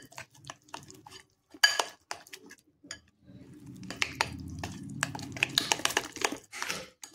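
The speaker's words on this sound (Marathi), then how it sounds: "बस एवढंच साहित्य ह्याच्यामध्ये घालायचे आणि छान असं हे आपण फेटून घेणार आहोत।" Batter for Kolhapuri sandge, seasoned with salt, turmeric and hing, is whisked in a bowl, with sharp utensil clinks and scraping strokes in an irregular run, close and fairly loud.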